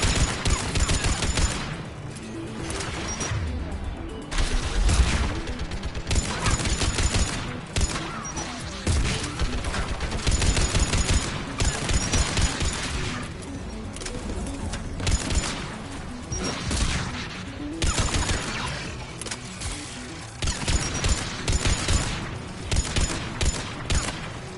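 Sustained turret gunfire in the Mass Effect game, a continuous dense barrage of rapid shots and impacts rolling on without pause, loud and close.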